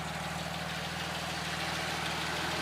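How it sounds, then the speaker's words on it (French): A 1977 Porsche 911S Targa engine idles steadily and evenly with a low rhythmic chug, constant and close, no other sounds. "Et on va écouter le moteur un petit peu."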